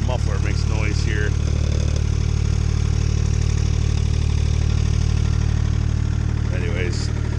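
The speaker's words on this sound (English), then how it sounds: "This muffler makes noise here." A motorcycle idles with a loud muffler, a steady deep rumbling drone close by and unbroken throughout, with brief voices heard over it near the start and end.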